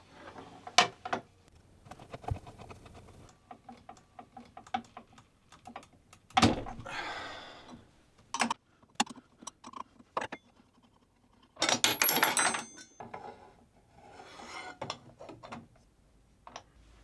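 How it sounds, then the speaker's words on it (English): A wrench loosens the blade bolt on a mitre saw, with scattered metallic clicks, ratcheting ticks and clunks at close range, separated by quiet gaps. "it comes with a wrench that will undo the blade for me"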